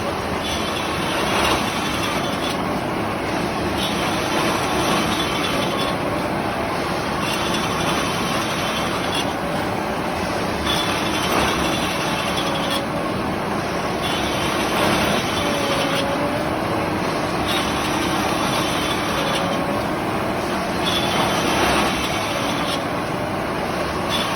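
A loud, continuous rumble of a Bangladesh Railway train passing, with rhythmic clatter of wheels over rail joints recurring every few seconds throughout, no voices.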